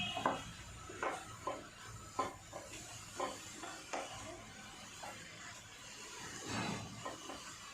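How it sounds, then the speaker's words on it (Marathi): Radish chutney being stir-fried in a pan, heard as faint, soft sizzling beneath a series of regular spatula scrapes and taps against the pan, repeating roughly every second and fairly quiet overall. "मी 2 मिनिटं परतून घेणार आहे आणि त्यानंतर चटणी तयार होऊन जाईल"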